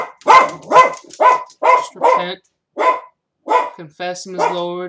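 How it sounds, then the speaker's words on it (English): A dog barks repeatedly in the background while someone speaks a spoken prayer over it, the barks blending into the talk in a steady rhythm. "That's my dog going on."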